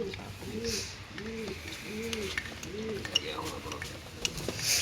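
Pigeons for sale coo in a steady repeated rhythm of about five rolling calls, close and clear, with someone talking over them at times.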